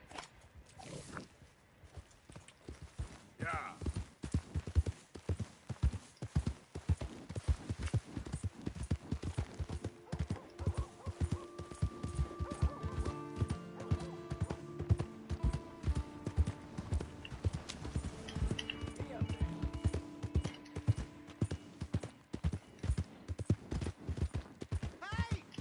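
Horse hooves clip-clop in a steady, close rhythm as a horse is ridden in Red Dead Redemption 2. The loud, even footfalls continue throughout, with faint voices and background game sounds underneath.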